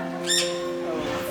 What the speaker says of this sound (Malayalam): കുഞ്ഞു പാരറ്റുകളുടെ ശബ്ദവും